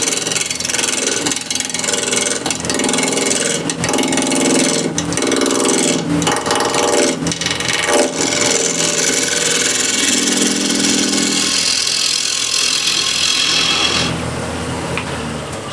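A scraper shapes a walnut or cherry wood plate on a spinning lathe, giving a loud, steady whirring drone with rough scraping and chattering that runs throughout and eases slightly near the end.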